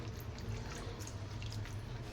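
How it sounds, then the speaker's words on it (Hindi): Water poured into a pan of cooking dry raw jackfruit sabzi, a steady close splashing pour with faint sizzling, continuous and alone for the whole stretch. "और अब इसमें डाल दूंगी मैं थोड़ा सा पानी ताकि इसको फाइनली थोड़ा अच्छे से पकने का मौका मिले"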